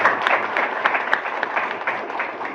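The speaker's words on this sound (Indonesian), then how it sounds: "Kasih tepuk tangan untuk Tuhan." A church congregation breaks into steady, dense applause for God during a service, the clapping close and sustained throughout, with faint voices mixed in.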